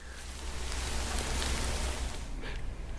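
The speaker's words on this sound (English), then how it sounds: "it's still raining" Steady rain falling outdoors, a continuous dense hiss of drops on surfaces that stays even throughout with no voices.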